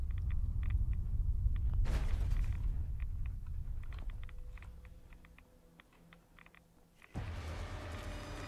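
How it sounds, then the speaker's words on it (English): A deep, rolling storm rumble builds and fades in Fallout London, with a sudden surge of low thunderous noise near the end and faint game sounds and clicks scattered through it. "did I trigger another red storm?"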